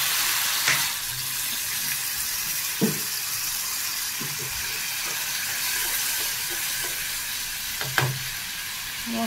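Ground spices frying in a pan with a little water, stirred steadily, giving a continuous close sizzle with a few sharp scraping knocks of the spoon against the pan.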